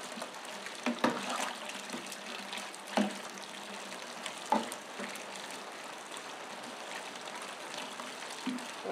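Water poured into a pot of corn while preparing a mash for corn liquor, a steady broadband wash with a few brief splashes and clunks, moderately close and with no voices.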